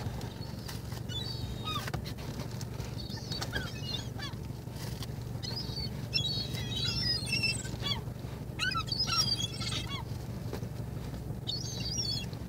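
Ducks and geese calling around someone tossing pieces from a loaf of bread, with repeated honks and quacks scattered over steady low outdoor rumble at moderate distance.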